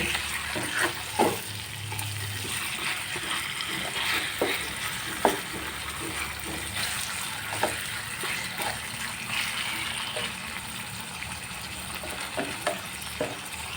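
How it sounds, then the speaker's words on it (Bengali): Fish coated in spices fries in a pan for a home-style fish curry, a steady close sizzle broken by repeated scraping stirs of a spoon, with no talking. "মাছগুলি এখন অ্যাড করে দিয়েছি আর এখন আমি খুবই সুন্দর করে একটু নাড়াচাড়া করে দেব"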